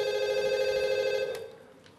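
A telephone rings with a steady electronic tone that holds for more than a second and then cuts off, leaving quiet room sound behind it.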